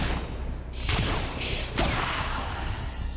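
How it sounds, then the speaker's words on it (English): Player gunfire in a video game: a couple of sharp, distinct shots about a second apart over a steady background hum of game ambience, moderately loud with no talking. "As you can see, you still hear me shooting."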